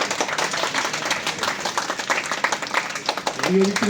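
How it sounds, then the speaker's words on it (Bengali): A group on a Bengali TV serial shooting set claps hands together, a dense, steady run of overlapping claps with voices talking over it throughout. "যাও সবাই হাততালি দিতে"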